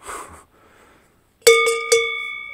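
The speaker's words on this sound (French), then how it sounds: "Ça c'est une cloche de vache." Two clear metallic clanks of a cowbell, each ringing on with a steady tone that decays slowly, loud and close after a brief stretch of quiet.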